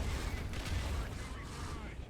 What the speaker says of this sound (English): Oh, there's the artilleries.